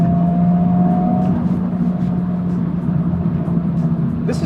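A Honda Civic Type R FL5 with 300 horsepower accelerates hard after a downshift, its engine droning steadily from inside the cabin and rising in pitch, with a voice speaking briefly over it.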